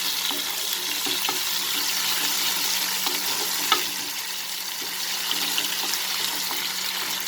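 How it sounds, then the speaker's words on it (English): Pointed gourd sautéing in a pan, giving a continuous close sizzle with light stirring clinks and a brief louder scrape partway through, steady and unbroken with no talking. "Just saute it a little bit so that the raw smell disappears."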